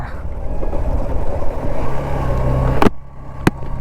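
A motorbike rides in at Avala Betta hill. Its engine gives a steady, fairly close rumble with low droning tones, and two sharp knocks come near the end.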